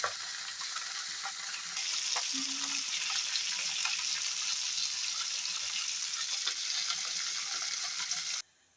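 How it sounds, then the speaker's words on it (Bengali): Fish frying in a pan for fish curry, a steady low sizzle with occasional light stirring clatter, fairly quiet and continuous before cutting off abruptly. "মাছটা একটু সাইড করে ভাজবো।"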